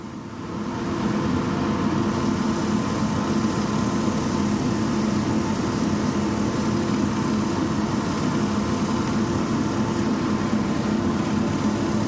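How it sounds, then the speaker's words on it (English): A lathe spins a turned wooden bowl while it is sanded, giving a loud, steady, unbroken drone that fills the whole stretch and never changes in level. No voices are heard. "Yeah, that's ready for sanding."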